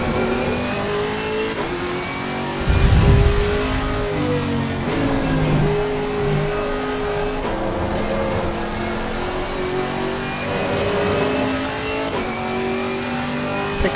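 A Chevrolet Camaro GT4 race car in Assetto Corsa Competizione, racing at Snetterton, revs hard through repeated gear changes, its engine note climbing and dropping in steady cycles with a brief louder low burst early on.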